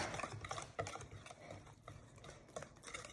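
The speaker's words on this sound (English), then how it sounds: "a little bit of flour and then mix. Then a little bit more flour, mix" Flour being stirred into waffle batter in a bowl, a soft, close, continuous scraping and swishing with a few light utensil clicks, quiet and without talk.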